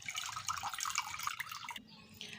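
Half a cup of water poured into a cup of warm milk while mixing paratha dough, a steady splashing trickle that stops abruptly near the end, close and fairly loud.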